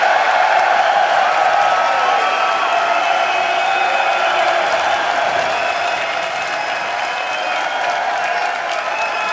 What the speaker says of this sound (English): I don't think they're ever going to stop clapping.